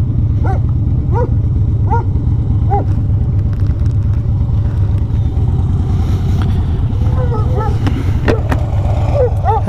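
Several dogs bark and yip in short bursts through steady engine or traffic rumble, with a voice greeting them fondly over the noise.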